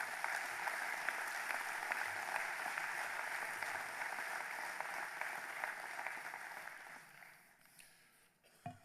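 A congress audience of young farmers applauding in a large hall, steady sustained clapping at a distance for about seven seconds before thinning out, fairly faint overall.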